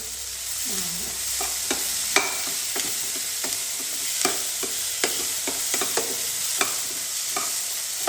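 Bread pizza topping mixture with chili flakes sautéed in a pan on a griddle, sizzling under repeated spoon scrapes and stirring knocks at an irregular pace, close up and fairly loud, no voices.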